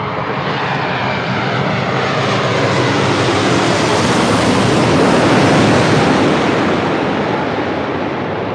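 Boeing 787-8 Dreamliner jet landing at LAX, a loud, steady roar of engines that swells slightly as the aircraft passes close overhead, with broad rushing wind-like noise throughout.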